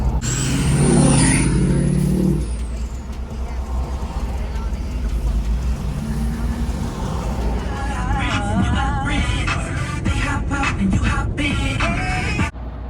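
Florida road traffic, with vehicles rumbling and passing steadily and a brief hiss near the start, while a person talks over the traffic for much of the time.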